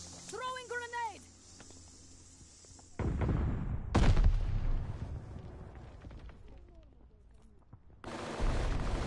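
A grenade detonation in Call of Duty Vanguard multiplayer, a heavy blast erupting amid gunfire and battlefield din, preceded by a brief radio-style voice line and followed by a second burst of loud noise.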